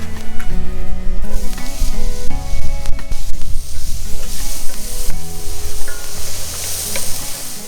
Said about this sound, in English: now it's time to saute up some diced onion